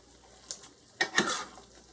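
Ground beef stroganoff with onions and cream being stirred in a pan, a few scraping, clattering strokes of a utensil against the pan with a soft sizzle underneath, close and fairly quiet.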